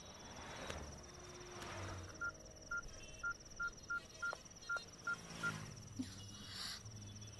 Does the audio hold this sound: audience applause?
no